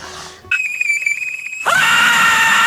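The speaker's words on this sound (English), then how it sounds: "That was the craziest scream." An AI-generated clown scream: a loud, shrill, sustained synthetic shriek with a piercing whistle-like tone that jumps in pitch partway through and holds to the end.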